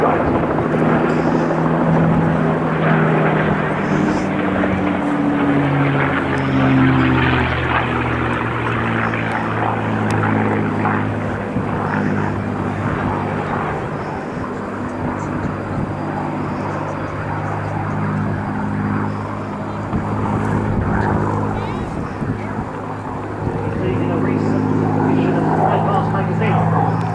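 Propeller engine drone of a P-51 Mustang fighter aircraft flying at the RAF Cosford Airshow, a steady loud roar with shifting pitch as it passes, sustained throughout with faint voices in the background.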